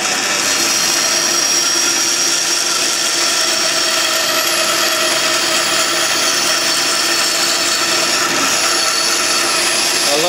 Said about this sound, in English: So I'll just cut it on the bandsaw.